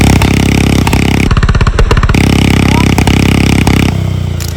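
A 1999 Royal Enfield Bullet motorcycle with a changed silencer runs close by, its loud, steady thumping exhaust beat continuing throughout before easing slightly at the end.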